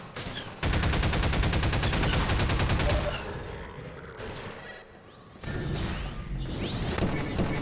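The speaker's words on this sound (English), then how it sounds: "pulse rifle's good for them" Rapid pulse rifle bursts in Half-Life 2, loud and dense automatic fire for about two and a half seconds, then sporadic impacts and whooshes before another sustained volley near the end.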